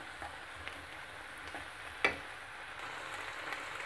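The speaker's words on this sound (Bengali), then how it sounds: "এখন জালটা বাড়িয়ে দিয়ে আরও 2 থেকে 3 মিনিট এগুলোকে আরেকটু ভেজে নেব।" Chicken pieces for chilli chicken frying over raised heat in a pan, giving a soft, steady sizzle with a few faint ticks of a utensil and one brief sharp clack midway.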